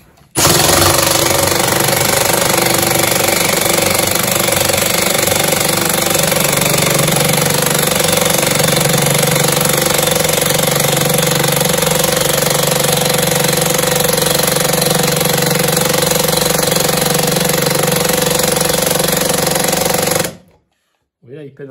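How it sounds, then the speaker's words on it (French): An impact driver, also called an impact wrench, drives a screw in a long, loud, continuous hammering burst of about twenty seconds that labours at moments, then cuts off abruptly. "je prends maintenant une boulonneuse à choc, une visseuse à choc"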